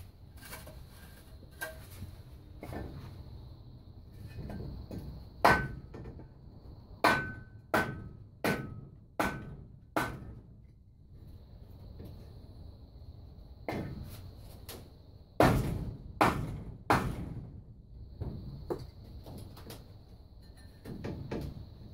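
A metal ground sleeve driven into clay soil to anchor a greenhouse, struck with a hammer in two bursts of sharp, ringing blows, first about seven strikes, then a few more, close and loud against quiet outdoor background.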